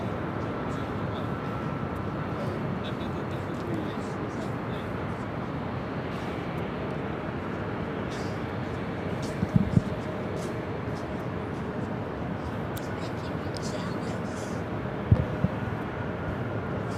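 A Delta Airlines Airbus A319 arrives at night with a steady, distant jet roar that stays even throughout, broken by a couple of brief clicks.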